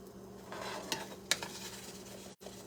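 Blueberry pancakes sizzling in a pan as they are flipped, a steady close frying hiss with a couple of sharp scraping clicks from the turner and a short dropout near the end.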